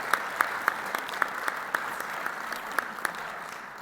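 Audience applause at a high school accreditation gathering, a steady wash of clapping with scattered sharper claps standing out, moderately distant and continuous throughout.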